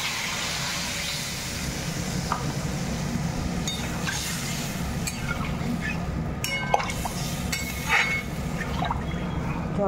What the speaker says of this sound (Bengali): জলটা ফুটতে থাকুক